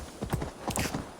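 Horse hooves clip-clopping in a Viking-era game world, a short quick run of hard, close hoofbeats in two clusters with a faint creak of tack, no talk over it.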